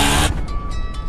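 An auto rickshaw engine runs with a loud burst of broadband noise at the start, then settles into a steady, close mechanical hum.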